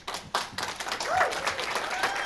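An audience applauds after a talk on the creative process, a burst of many hands clapping together at a steady level, with a voice briefly cutting in over the crowd.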